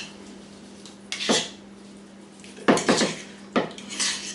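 Chorizo and shrimp burger mixture being worked in a bowl, with three bursts of clinking and scraping of utensil against the bowl separated by quieter pauses over a faint low hum.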